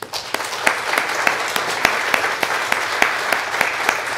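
Steady applause from a church congregation thanking a military veteran, dense clapping with sharper individual claps standing out, sustained and fairly close throughout.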